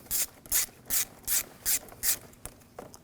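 A 7mm socket on a ratchet loosening a hose clamp on an Audi S4 4.2L V8, six evenly spaced rasping ratchet strokes close up, followed by a few softer clicks.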